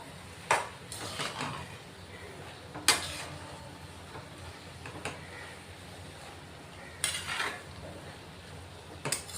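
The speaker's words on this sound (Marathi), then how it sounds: "अशी चांगली मिक्स झाली पाहिजे मेथी आपल्या मसाल्यांमध्ये" A utensil stirs fresh fenugreek leaves into spices in a pan, with sharp metallic scrapes and clinks at irregular intervals over a soft sizzling background.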